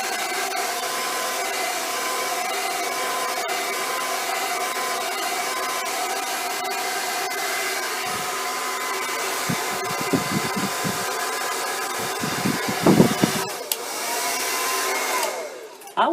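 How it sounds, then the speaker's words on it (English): A hair dryer blows loudly and steadily for a long stretch, its whirring hum shifting briefly near the end with some rubbing and handling noises. "I want a fancier hair dryer for Maya."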